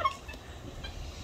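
A turkey on a rain-soaked farm lets out a short, rattling gobble at moderate distance, with a brief burst at the start and another at the end against quiet outdoor background.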